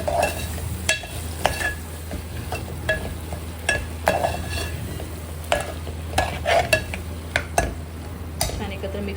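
Dal and onion masala being mixed in a pan, a spoon scraping and clacking against the metal in irregular strokes over a soft sizzle, with no talk.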